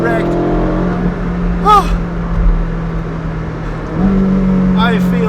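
Ferrari 458 Speciale V8 fitted with a Novitec exhaust, a steady engine drone under a man's exclamations, with a brief shift in pitch near the four-second mark as the car pulls on.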